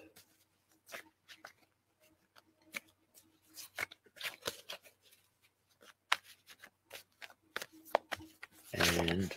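Soft papery riffles and taps of cards being shuffled in scattered bursts, ending with a louder muffled rustle.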